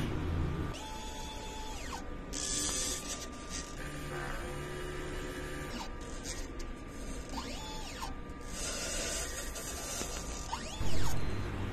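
An LCC DTF printer runs its print head cleaning cycle: a steady electrical hum under whirring motors, ratcheting gear clicks and rising and falling pump tones, ending with a louder mechanical thump, with no voices.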